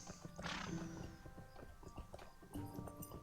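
A horse whinnies and its hooves clip-clop steadily in The Lord of the Rings Online, fairly quiet, with a second neigh near the end and no talk.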